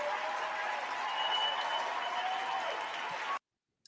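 A round of applause fills the clip, a dense, even patter of many hands clapping at moderate volume for about three seconds before cutting off abruptly into silence.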